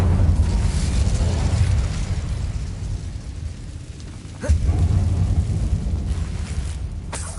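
An Incendio fire spell is cast in Hogwarts Legacy, giving a loud whooshing roar of flame over a dense, rumbling game backdrop, with a sharp surge midway as the blast swells again.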